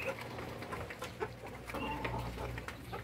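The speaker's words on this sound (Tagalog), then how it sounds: "Rhode Island na rooster saka upgraded na native chicken." Rhode Island rooster and upgraded native chickens in a small backyard farm, giving soft scattered clucks over a steady low background hum, fairly faint and distant.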